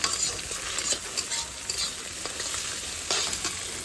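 Eggs fry and get stirred in a pan, with a constant close sizzle and repeated soft scrapes of the utensil against the pan.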